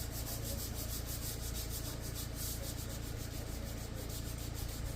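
Body filler on a car's bodywork is sanded smooth by hand, a close, continuous rhythmic rubbing and scratching that keeps an even pace throughout with no voices.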